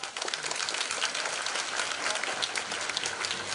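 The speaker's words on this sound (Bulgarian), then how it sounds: "с много мощни ръкопляскания да поздравите и да благодарите на техните учители" Audience applause at Sofia Fashion Week AW 2016, honoring young designers and their teachers: steady, dense clapping from a large crowd, continuous and fairly loud throughout with no pauses.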